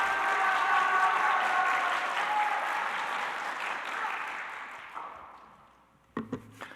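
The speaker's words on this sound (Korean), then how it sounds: "큰 박수로 환영해 주시면 고맙겠습니다." A school auditorium audience gives a pastor a warm round of applause that starts full and loud, then gradually fades over several seconds, followed by a few sharp knocks as the hall quiets.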